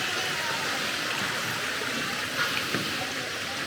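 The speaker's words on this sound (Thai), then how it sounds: "มีทานน้ำเล็กๆไหลมาจากน้ำตก" Steady broadband rush of a small stream flowing from a waterfall, a continuous even wash of water with a few faint gurgles, fairly close.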